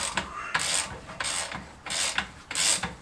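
A spring compressor is wound tight on a Peugeot 206 shock absorber strut, giving four rhythmic rasping, ratcheting strokes with short pauses between them, loud and close with no talking.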